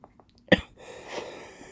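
A single sharp cough bursts out near the mic, followed by a soft breathy exhale and faint rustling.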